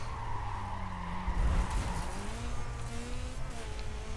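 Mitsubishi Lancer tires skidding in a racing video game, a sustained squeal with sliding pitch over steady engine drone, moderately loud and continuous.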